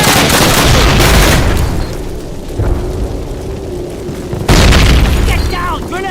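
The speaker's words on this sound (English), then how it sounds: "Look, grenade!" A grenade goes off in the 2003 Call of Duty game: loud, dense booming blasts with a sudden heavy burst near the end, while voices shout over the battle.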